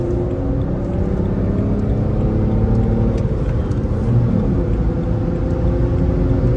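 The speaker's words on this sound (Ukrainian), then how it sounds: "Ага, отсечка быстро" A BMW 3 Series E90 engine drones loud and near, with sustained revving that holds steady throughout.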